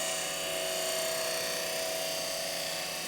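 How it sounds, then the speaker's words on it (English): A woodturning lathe spins a spindle while a gouge cuts a cove, giving a steady, high-pitched motor whine with an even scraping hiss and no break, unchanged in loudness throughout. "you just want to keep doing that until you get the cove that you require"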